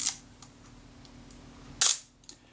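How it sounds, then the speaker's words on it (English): A Voigtländer Bessamatic camera body's shutter fires with one sharp, loud mechanical snap near the end, alone over a faint room hum with a couple of tiny clicks before and after. "and the shutter certainly fires."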